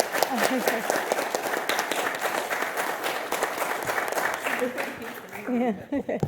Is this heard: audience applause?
yes